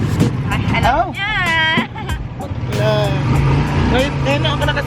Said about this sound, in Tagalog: Ngayon ako nakasakay ng tricycle.